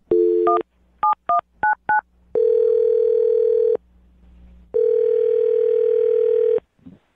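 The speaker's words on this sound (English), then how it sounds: "I will dial her phone number right now" Telephone number dialed before a prank call: a short rapid run of DTMF keypad tones, then two long steady ringback tones separated by a pause, clear and close with no talking.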